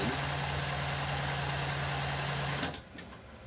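A Jack Zig-Zag 20U semi-industrial sewing machine stitches zigzag in a steady, close, continuous whir with a low motor hum for about two and a half seconds, then stops abruptly into near quiet.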